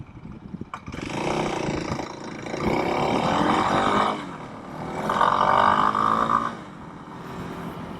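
A Kawasaki KLX 300 dirt bike engine running rough, its roar swelling and easing in uneven surges over several seconds, close and loud with no talking.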